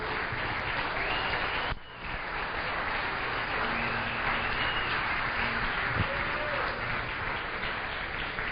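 A church congregation applauds during a Portuguese-language service, producing a thick, continuous wash of clapping with faint voices and tones mixed in, broken by one brief dip.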